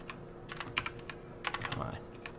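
Keys on a computer keyboard clatter in two quick bursts of typing, close by and fairly soft.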